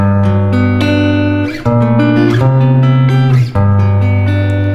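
A guitar strums a lush jazzy major seventh chord, letting it ring, then strikes it twice more in a slow, even rhythm, played alone and close.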